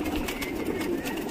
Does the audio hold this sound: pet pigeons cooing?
yes